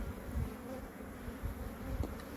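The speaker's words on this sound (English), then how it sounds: "you see how the bees are all moving up to the top again of the hive?" Honey bees buzz steadily throughout a beehive inspection with a super on, a dense, continuous hum close to the open hive with faint low bumps from handling the frames.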